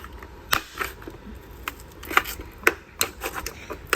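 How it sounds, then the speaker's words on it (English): Trim clips are pried off the side window of a 1975 Lincoln Continental, giving a string of sharp, dry clicks and small pops at irregular intervals, close by with no talk. "So you see those clips pop off?"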